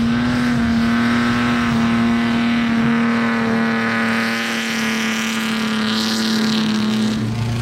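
Expensive sports cars, among them a Mercedes 300 SL, race around an ice circuit, a loud steady engine drone holding a constant pitch throughout with revving higher tones above it, heard close and continuous.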